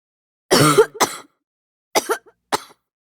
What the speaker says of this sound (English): you sure cough a lot sometimes